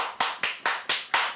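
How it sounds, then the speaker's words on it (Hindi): Six sharp hand claps ring out at an even, quick pace, close and clear, each one followed by a short decay, with no talking. "ताली क्या बजा रहा है?"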